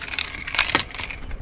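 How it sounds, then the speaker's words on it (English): Keys for a 2000 Toyota Camry jangling close by in a brief metallic rattle, a quick cluster of clinks lasting about a second. "find the keys here."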